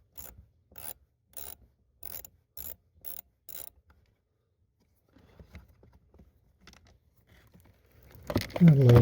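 A ratchet removes a bolt on a 2013 Nissan Titan during blower motor work, giving seven quick evenly spaced clicking bursts up close, followed by quiet murmured talk and a louder rustling clatter at the end.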